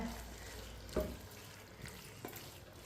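Chopped tomatoes cook in a pan for Hyderabadi chicken biryani with a steady, soft sizzle, broken by a few light scrapes and clinks of a stirring spoon.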